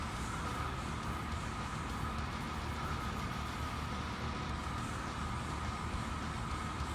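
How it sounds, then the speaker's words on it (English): An HRS industrial ceiling fan made by Union or Evergo spins down, producing a constant, fairly loud airy whoosh and motor hum that holds evenly throughout without pauses. "I'm gonna let it go ahead and finish spin down"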